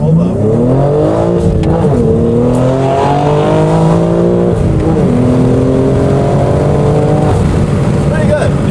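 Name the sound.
BMW G80 M3 manual accelerating hard, traction control off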